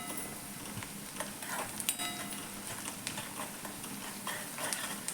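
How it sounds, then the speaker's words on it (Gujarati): Onions sautéing in a pan for whole moong sabzi, a steady soft sizzle with faint scrapes and clicks of stirring throughout, close and fairly quiet, no talking. "ડુંગળી સતરાઈ ગઈ કે નહીં એ જોઈ લઈશું જરાક અને એને પણ થોડી હલાવીને સાતરી લઈશું"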